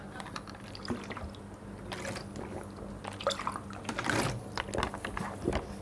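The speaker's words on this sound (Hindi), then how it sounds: "थोड़ा सा हम पानी पी लेते हैं, बहुत बड़ा बोतल का इस्तेमाल करते हैं" Water sloshes and glugs as someone drinks from a large two-litre plastic bottle indoors, close-up irregular liquid gurgles and swallows with small clunks, no speech.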